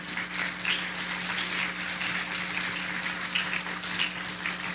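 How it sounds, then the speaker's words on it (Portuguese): Church congregation applauding the Lord during a Portuguese-Spanish sermon, a steady moderate wash of clapping with a low hum underneath, continuous throughout. "Dê um forte aplauso ao Senhor"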